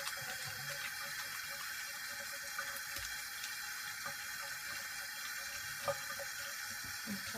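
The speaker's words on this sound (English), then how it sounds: "Let me go ahead and wet it." A water tap runs into a sink while a makeup brush is wetted under it, a quiet steady hiss of flowing water with a few faint knocks and splashes.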